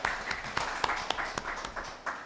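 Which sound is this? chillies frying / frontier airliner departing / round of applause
round of applause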